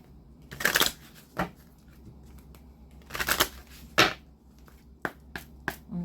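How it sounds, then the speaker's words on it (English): Several bursts of oracle cards being shuffled, crisp riffling rustles separated by short pauses, followed by a few quick snaps and flicks, close up with no talking. "I didn't have to shuffle that much here"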